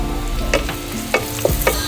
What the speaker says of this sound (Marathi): लसूण आपल्याला फोडणीमध्ये चांगला तळून घ्यायचा आहे।